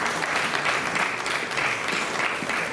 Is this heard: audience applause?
yes